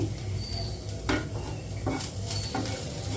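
Food frying in ghee or oil in a pan for prawn biryani: a steady, close sizzle broken by a few sharp bursts of crackling and spatula scrapes against the pan.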